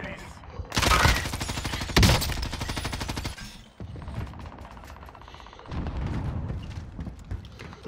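Rapid bursts of automatic gunfire from a Fortnite match, loud close volleys early on, then fainter, more distant shots with game effects behind them.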